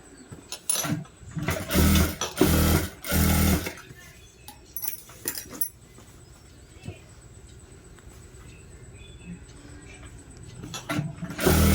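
A sewing machine stitches a plain blouse in a tailoring class, its motor whirring in a few short, loud runs early on, then falling to quieter intermittent sounds with faint background activity.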